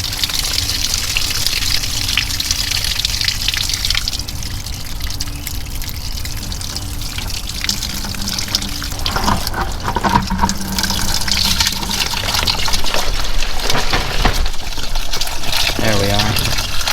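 Water gushes and trickles steadily as it drains from the engine of a 1942 Farmall M tractor left sitting for over 20 years, a continuous wet splashing that runs throughout under intermittent talk.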